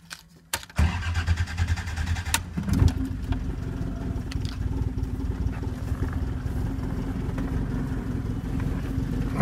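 A car engine starting up: a short crank and catch, then a steady mid-pitched idle that runs continuously and fairly close, with a few clunks early on and no talk.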